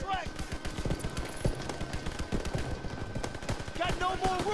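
Dense gunfire in Call of Duty WWII: rapid bursts of automatic shots and sharp single cracks follow one another without pause, loud and close, with a voice briefly speaking over them.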